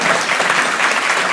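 A dense audience applause fills a short moment at a university celebration for its first doctoral program, a loud, continuous wash of many hands clapping, close and steady, with no voices on top.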